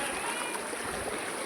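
Floodwater rushes through flooded village streets and into homes after heavy rain, a continuous loud broadband roar of flowing water, close and unbroken throughout.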